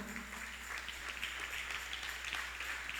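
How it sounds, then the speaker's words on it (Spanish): A church congregation applauds during a sermon, a steady, even wash of many hands clapping that sounds somewhat distant and soft over a low hum. "denle un aplauso a Cristo"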